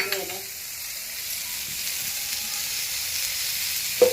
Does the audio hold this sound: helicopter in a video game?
no